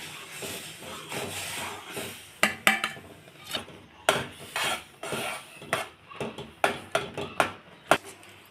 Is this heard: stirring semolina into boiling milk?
yes